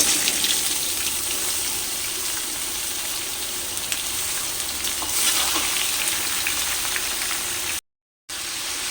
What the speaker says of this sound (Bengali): এবার ওই তেলের মধ্যে আমি ঝিঙাগুলোকে দিয়ে দিচ্ছি